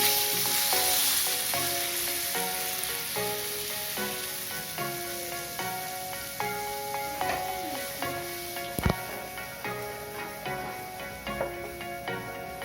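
Strained tamarind water coming to a boil in a pan, making a steady bubbling hiss with faint ticks. Gentle melodic background music plays throughout.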